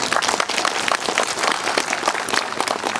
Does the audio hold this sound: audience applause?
yes